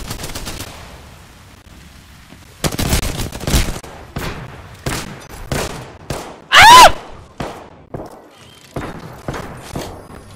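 Bursts of gunfire in the battle-royale game Apex Legends, loud and close, with irregular shots and short rapid volleys broken by gaps, a brief shout in the middle.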